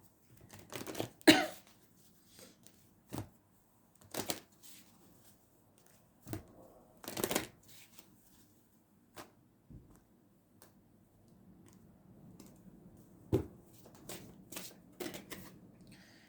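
A deck of oracle love cards being shuffled by hand, with repeated short riffling bursts separated by pauses and lighter card rustles, close and quiet, no speech.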